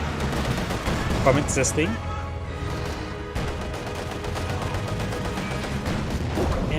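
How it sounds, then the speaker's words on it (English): MG34 machine gun firing in Company of Heroes 2, with dense overlapping gunfire and distant battle booms under a continuous loud mix, while a commentator talks over the action. "MG34 firing against the Pino PTRS there"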